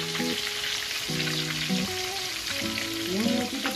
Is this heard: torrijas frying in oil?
yes